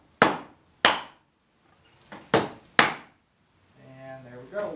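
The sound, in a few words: dead blow hammer striking undercarriage part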